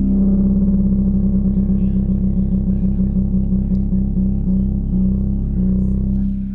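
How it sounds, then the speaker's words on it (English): UNO Synth monosynth playing a sustained low tone with vibrato, a steady wavering pitch over a continuous loud drone with a rhythmic pulsing wobble throughout. "You have your vibrato as well."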